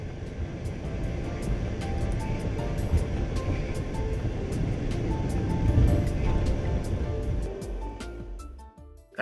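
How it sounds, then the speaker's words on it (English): A jet aircraft takes off, heard from the cockpit as a loud, steady broadband roar and rumble that holds for several seconds and then drops away near the end. "Here's a nice view from the cockpit of a takeoff."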